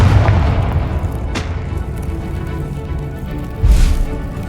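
A Confringo blasting spell from Hogwarts Legacy, set in underground tunnels, fires with a sharp crack early on, then a deep booming explosion lands near the end over a low rumbling bed.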